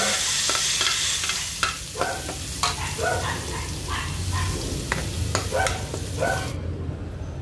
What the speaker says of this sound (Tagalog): Siyempre, maglagay ako ng mantika. Igisa ko na yung bawang.